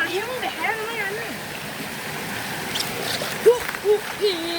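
Stream water runs steadily beneath voices at the point where a forest brook splits in two, a continuous wash of flow with occasional splashes while people talk over it.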